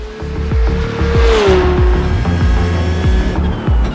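A race car on a qualifying lap in iRacing, engine note rising then dropping through rapid downshifts with crisp gear-change blips, loud and close throughout, with a steady rhythmic pulse under the revving.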